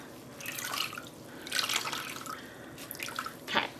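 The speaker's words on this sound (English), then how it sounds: "I want to squeeze out, I would say, the majority of the liquid" Pre-soaked non-superwash yarn is squeezed out by hand, and water trickles and drips in several splashy bursts, close and fairly quiet, with no talking.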